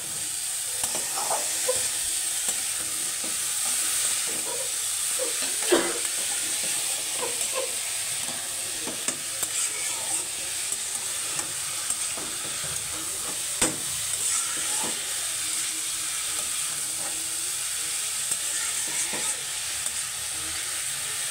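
Sliced banana stem cooking with turmeric in a hot pan: a steady sizzling hiss runs throughout, broken by scattered soft scrapes and clinks of stirring, close and with no talking.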